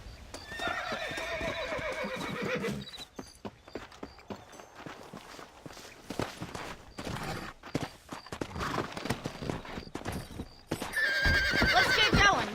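Horses in the Red Dead Redemption video game whinny and neigh repeatedly among steady clip-clopping hooves and footsteps, with a loud burst of neighing near the end and no talk.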